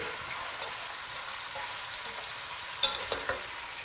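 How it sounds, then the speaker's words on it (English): Lamb ribs frying in a pan with fresh garlic and onion, a steady low sizzle throughout, broken near the end by a few sharp clinks and scrapes of stirring. "We cook until golden brown, and then we add our onion"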